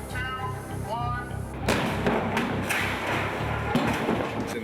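A shredder prop busts through a car on a film set, giving a loud burst of crashing impacts and heavy thuds, with a sharp smash near the middle and another near the end, after a voice speaks at the start.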